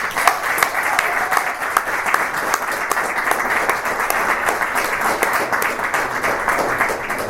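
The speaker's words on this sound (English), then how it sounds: "I think we need to give them a round of applause." An event audience gives a sustained round of applause for fashion panel speakers, dense crowd clapping holding steady and fairly loud throughout.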